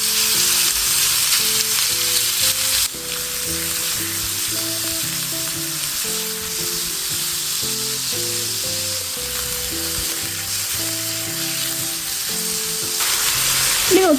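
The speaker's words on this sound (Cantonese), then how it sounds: "我哋將佢鋪平，煎一陣先反轉。" Iberian black pork pan-fried in a little oil, giving a steady, loud sizzle and crackle that runs throughout over background music.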